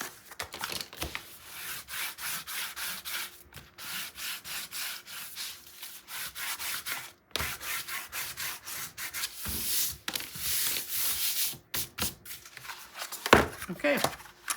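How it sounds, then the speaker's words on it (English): Backing papers being peeled off a 9 x 9 mini album, a series of close rasping, tearing rubs in repeated pulls with short pauses between, a sharp louder peel near the end. "I'm going to take the other papers off. And again, I'm giving a gentle but firm tug"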